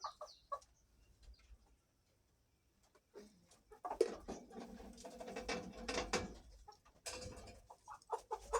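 Poultry cluck and squawk in a small flock, with scattered calls at first, a brief lull, then a busier burst of overlapping clucking and fluttering nearby, faint and with no speech.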